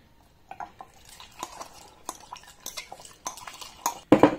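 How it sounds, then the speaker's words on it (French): Fork clinking and scraping against a dish while stirring krówka caramel into vodka, a run of light irregular metallic taps and scrapes, close and fairly quiet, ending in a sharper clatter. "Un petit peu de fourchette, un petit coup de mélange."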